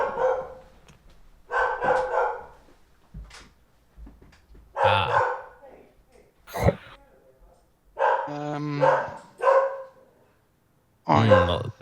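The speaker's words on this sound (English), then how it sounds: "Great that Matt decided not to mute his microphone before walking off" A dog barks close to an open microphone in repeated sharp bursts, some with yips, loud against otherwise quiet room sound, with brief gaps of silence between the barks.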